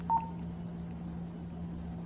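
A public safety two-way radio gives one short, clean electronic beep as scan mode switches on, then only a low steady hum remains.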